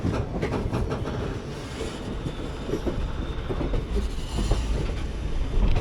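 The 16343 Amritha Express rolls into Madurai station, wheels clacking over rail joints with a continuous rumbling ride noise, heard from inside the coach and growing slightly louder toward the end.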